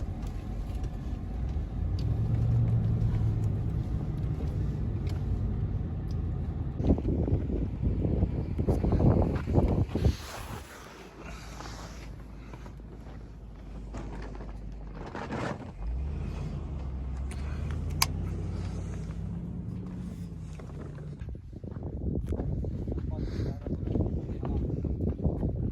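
A car travelling at around 120 on the road, with steady loud engine and road rumble plus wind noise throughout, while people talk over it and the level dips partway through.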